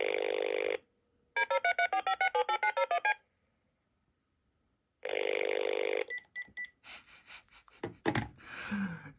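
ETSI-style telephone signalling test: bursts of harmonic ringing and caller ID data tones, a steady line tone, DTMF-like beeps, then handset clicks and rustling, all without talk.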